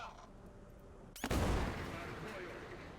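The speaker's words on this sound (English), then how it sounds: "Let me show to you guys a cable missile, guided, you know." A wire-guided anti-tank missile fires in War Thunder: one sudden loud blast of launch and ignition, then a sustained roaring rush of motor noise that slowly fades.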